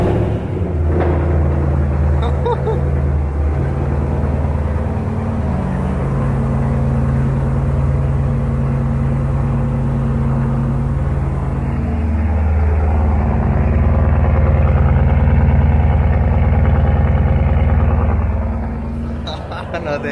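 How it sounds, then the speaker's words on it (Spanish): A Porsche Cayenne S with a modified exhaust cold-starts on the street and settles into a deep, steady rumbling idle, swelling louder for a few seconds before easing back down. "Vamos a ver el primer encendido en frío"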